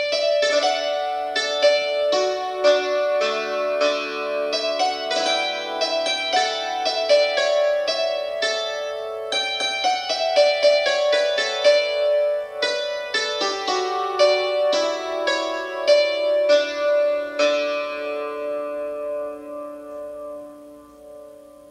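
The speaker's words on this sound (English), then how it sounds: "Here's Trapezoid running on an iPad Air." Hammered dulcimer app Trapezoid playing through iPad Air built-in speakers, captured by a camera microphone: a continuous, fairly loud run of bright struck-string notes with ringing sustain, ending in a decaying final chord.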